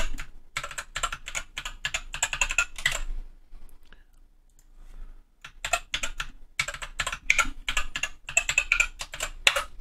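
Fingers type a password on a computer keyboard in quick, steady clatters of key presses, close by, pausing for about two seconds midway before resuming at the same brisk pace, with no voices.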